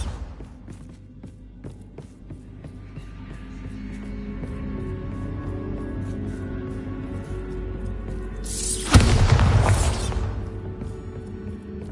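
A Bombarda explosion spell goes off in the Hogwarts Legacy video game, with a sudden loud burst and rush near nine seconds over a steady background hum.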